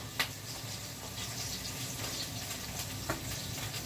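Food frying lightly in a pan, a steady soft sizzle and crackle with a few sharper pops, fairly close and alone without talk.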